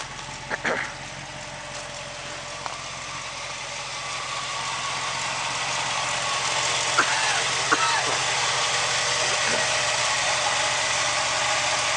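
A 1965 Chevy Impala SS convertible idling smoothly and quietly, a steady low engine hum throughout with a few faint clicks and knocks on top.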